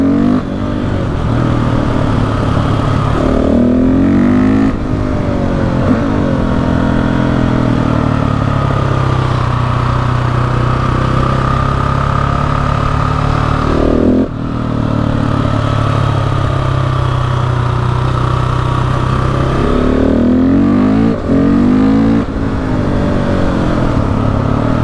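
KTM 690 SMC R supermoto single-cylinder engine on the Passo Fedaia mountain road, loud and close, revving up through gears with repeated rising pulls, brief dips at shifts, and steady high-rpm drone between.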